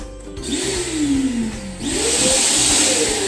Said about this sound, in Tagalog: I'm gonna get the vacuum and subukan nating ipahanginin na ito.